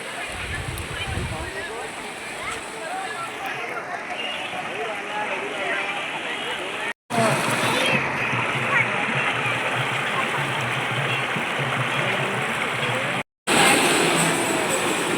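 Waterfall at Lamghati pouring steadily into a bathing pool, a loud, dense, unbroken roar of rushing and splashing water heard up close, with two brief cuts in the middle.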